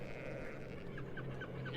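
Sheep bleating on a sheep farm, a few short wavering calls in quick succession, faint and somewhat distant over a steady low background.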